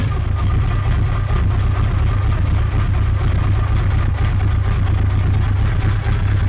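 A Honda VF750 Sabre motorcycle engine idling very slowly, a steady low, loud rumble with an even pulse held unbroken throughout, with no voices over it.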